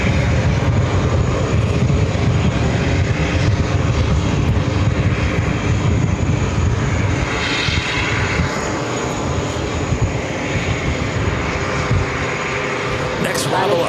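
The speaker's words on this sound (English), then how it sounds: "an A320 will be taking off shortly right after the Big Q" A JetBlue Airbus A320 airliner at JFK airport sends out a continuous, heavy jet-engine roar that stays loud and steady throughout, with faint chatter underneath.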